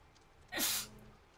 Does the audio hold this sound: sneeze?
yes